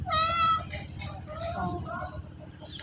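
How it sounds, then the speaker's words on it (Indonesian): A house cat gives a loud, close, drawn-out meow with rich harmonics, followed by softer, shorter mews as a person talks over the background. "Kucing. Kucingnya dumoro pemirsa lho."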